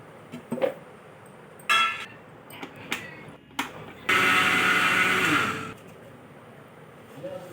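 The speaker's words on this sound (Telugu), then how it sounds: "చివరిగా మనం నువ్వులని మిక్సీ పట్టుకోవాలి." A kitchen mixer grinder grinds sesame seeds for multigrain laddu in one loud, whirring burst of about a second and a half. Scattered knocks and clatter come before it, and quieter handling sounds follow.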